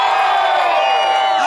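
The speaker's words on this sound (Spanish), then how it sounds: "Let me hear you with a big scream." An audience at a resort fire and water show screams and cheers in a loud, sustained roar, close and continuous with no pauses.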